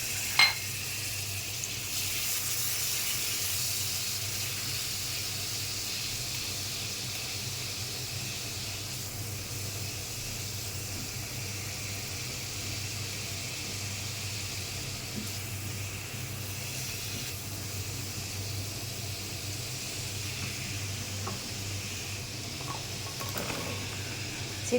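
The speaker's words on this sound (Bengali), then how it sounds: "তেলের মধ্যে সরিষা ফোড়ন দিয়ে দিলাম, নারকেল দিয়ে দিলাম, তেলে ভেজে নেব" Mustard seeds and coconut frying in a little oil in a kadai, a faint, steady sizzling hiss with an occasional soft pop or clink, continuous throughout without talking.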